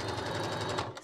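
Sewing machine finishing a zip seam on a small square pouch, a brief close burst of rapid, evenly pulsing stitching.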